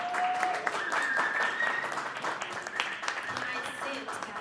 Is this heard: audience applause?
yes